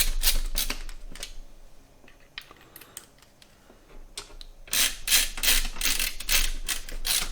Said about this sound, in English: we have these screws that we're going to pop in that we took out